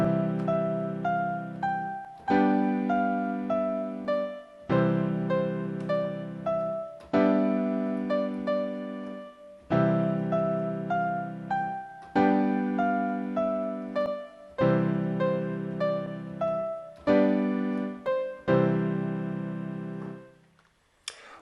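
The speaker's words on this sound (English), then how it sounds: "I'm going to play the Ode to Joy" Keyboard plays the Ode to Joy melody with left-hand chords beneath it, eight steady phrases of clear sustained notes, each chord struck afresh every couple of seconds, close and alone.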